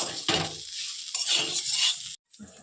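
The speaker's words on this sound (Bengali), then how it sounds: "একটুখানি নেড়ে নেব" Mushroom korma is stirred in a pan with a spoon, giving short scraping strokes over a soft sizzle, then a brief silence and a final stir.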